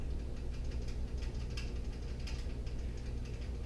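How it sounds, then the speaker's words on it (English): The safety of a Ruger Precision Rifle in 6.5mm Creedmoor wiggles in place, making faint, close, irregular small clicks and rattles over quiet background noise. "that's the sound of it wiggling"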